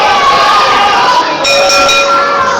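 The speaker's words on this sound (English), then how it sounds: "And there's the bell." Ring bell clangs at a live independent wrestling event, its ringing tones standing out over steady crowd noise and arena din, struck near the middle and lingering to the end.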